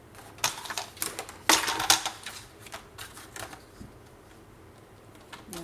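Paper is cut for a scrapbook album page, giving a few crisp snips and rustling crunches close by, loudest in a short cluster near the start and then fading to softer scraps, with no talk.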